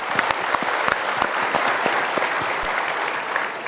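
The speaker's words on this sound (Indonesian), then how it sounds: "kita berikan tepuk tangan dulu untuk Ibu." A studio audience at a talk-show counselling session claps for a woman, with steady, dense applause and distinct individual claps sustained throughout at moderate loudness, with no voices over it.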